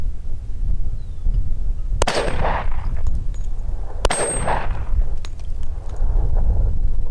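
A 10mm Smith & Wesson M&P 2.0 pistol fires two loud, sharp shots about two seconds apart, each followed by a ringing echo tail. Fainter clicks and a steady low background rumble sit between the shots.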